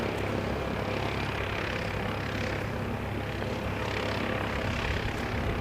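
An airliner departing for Wellington gives a steady, broadband jet roar at moderate distance, filling the whole clip with no clear peaks or breaks.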